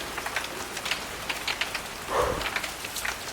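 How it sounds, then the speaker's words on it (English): Heavy rain pours down outside a garage during a clear-out, a steady close patter with dense drops pattering on surfaces and a brief louder splash midway, no voices over it. "Yeah, it's raining big time."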